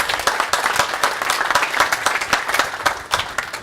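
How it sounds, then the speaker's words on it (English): A room full of people at a business breakfast talk gives a loud round of applause, with many hands clapping in a busy, sustained patter from start to end. "Please give me a round of applause"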